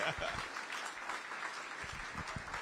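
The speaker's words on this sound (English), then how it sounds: "Round of applause for Mayor Richard C. Irvin" A crowd at a regional economic alliance launch event in Aurora applauds, a dense wash of clapping at moderate distance that holds steady throughout, with faint voices mixed in.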